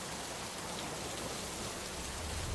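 Heavy rain pours down in a cartoon scene, a dense and steady hiss of falling water with no voices or other sounds.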